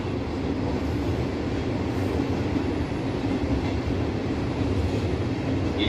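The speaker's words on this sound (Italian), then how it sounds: "Il treno regionale 76 di Ferrovie Udine Cividale delle ore 18:33 per Cividale è in partenza dal binario 1." A Ferrovie Udine Cividale regional train departs the station with a loud, continuous rumble of wheels and rolling stock, steady and close, without voices.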